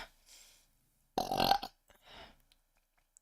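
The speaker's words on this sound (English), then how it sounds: "Let me drink some water and burp, apparently." A single loud, throaty burp lasting about half a second, close to the mic, with a few quieter gulping or throat sounds before and after.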